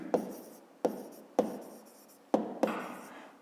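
A pen writing on paper during a grade 5 math exercise, with a few distinct taps as the pen touches down, each followed by a soft scratching stroke, close and quiet, with no talking.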